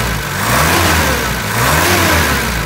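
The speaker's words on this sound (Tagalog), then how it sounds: "Pag i-rev ko yan, responsive yung makina." A car engine with a ported vacuum distributor revs up loudly and close, the throttle rising and easing back in a couple of smooth swells over a steady idle rumble.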